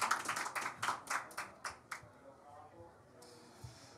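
Conference audience applauding a panelist at a climate finance session, a brisk burst of clapping that thins out and fades within a couple of seconds, followed by quiet room tone.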